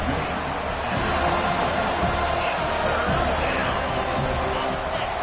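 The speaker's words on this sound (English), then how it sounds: "Here comes this home crowd as the defense tries to get off the field on third down." A home crowd at a football game roars in a dense, steady wall of cheering and noise, loud and sustained with scattered thumps within it.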